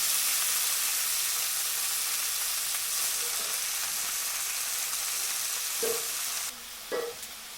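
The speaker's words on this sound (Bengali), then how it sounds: "শাকটাকে আস্তে আস্তে নাড়াচাড়া করব" Leafy greens stir-fry in hot oil with garlic, a close, steady sizzle that fades slightly toward the end, broken by a few scraping stirs of the pan.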